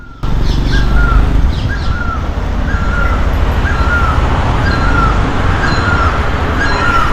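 A bird called naoli perched in a tree near Phewa Lake in Pokhara, Nepal, giving a repeated short call about every second in a steady series, clear and fairly close over a broad outdoor hiss.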